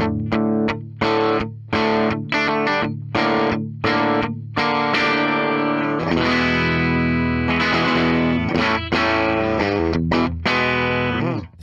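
A 2007 Gibson Les Paul 25 electric guitar on its bridge pickup, crunchy and overdriven, strums a series of choppy chords, then lets heavier chords ring with sustained distortion.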